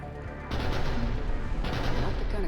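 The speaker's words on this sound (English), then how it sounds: "Then I think it's time to test this cannon." A cannon firing in the video game Mass Effect 3, a sustained roaring blast that bursts in loudly, runs for about two seconds with a brief surge partway through, and fills the whole clip.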